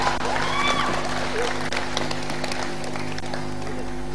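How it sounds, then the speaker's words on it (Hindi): Applause from a stage-show audience, a short burst of scattered clapping under music and a voice, moderately loud and thinning toward the end. "बहुत सारी तालियां"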